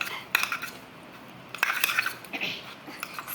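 Homemade borax-free slime being mixed in a bowl, with short wet squelches and clicky scraping bursts in irregular clusters, close and fairly crisp.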